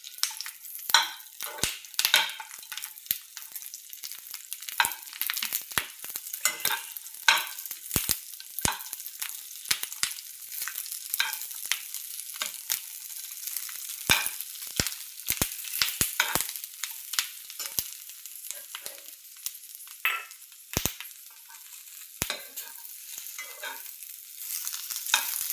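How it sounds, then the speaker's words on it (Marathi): Red chillies roast in a little oil in a pan as a spoon stirs them, giving a soft crackling sizzle with frequent sharp scraping clicks against the metal, steady and close for the whole stretch, with no talking. "आपल्याला आता ह्या मिरच्यामध्ये एक थोडंसं तेल टाकायचं आहे, जेणेकरून लवकर भाजतील"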